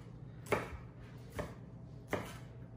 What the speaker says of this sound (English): We're just gonna coarsely cut these up.